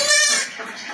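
Goats bleating at night as they come running to be fed, one loud, close, wavering bleat that trails off into quieter background noise.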